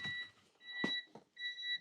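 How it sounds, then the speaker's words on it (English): An electronic beep repeats as steady high tones in three stretches over about two seconds, with brief rustling and handling noises between them, close by and fairly quiet. "And sorry about the beep,"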